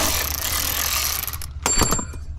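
A ratchet works loose M10 bolts on an Audi S4 B9 exhaust downpipe, with a sustained noisy whir followed by a quick burst of close mechanical clicks.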